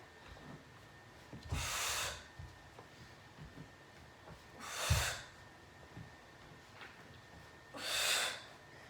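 Three forceful breathy exhalations during a core workout as the feet press upward, spaced a few seconds apart, close and airy against quiet background, with no speech.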